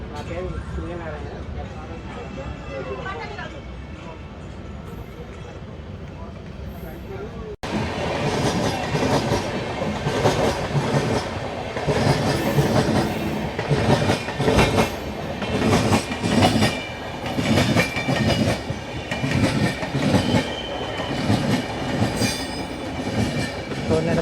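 Trivandrum–Shalimar Superfast Express train rushes past at a station, a loud roar with rhythmic clickety-clack of wheels over rail joints that starts abruptly and carries on, while people talk nearby.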